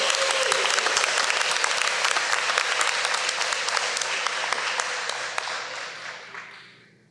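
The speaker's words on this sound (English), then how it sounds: "let's give our 30-year honorees a round of applause." At a board meeting honoring 30-year honorees, the audience breaks into loud, sustained applause, a dense, even stream of clapping that holds steady and then fades out over the final second.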